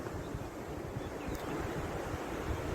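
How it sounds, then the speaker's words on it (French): Sea waves rolling in the background by the shore, a steady broad wash of surf mixed with wind buffeting the microphone, continuous and fairly loud with no speech. "J'ai la mer en bruit de fond avec les vagues."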